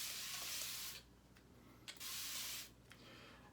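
A spray bottle mists water onto a face in two long hissing bursts of about a second each, separated by quiet pauses, and a faint click ends the clip.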